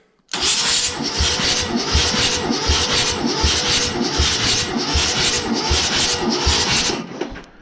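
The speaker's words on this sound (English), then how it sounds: "I got the starter button hooked up, I got the motor sitting to where it can safely turn over" Starter on a 1948 Chevy engine that sat for 25 years cranking it over, a loud rhythmic churning whir with regular compression pulses for about seven seconds before stopping abruptly.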